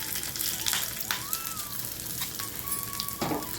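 Dried chili, curry leaves and asafoetida frying in hot oil as a tempering for a roasted brinjal curd pachadi, giving a steady close sizzle with occasional brief pops and spatters.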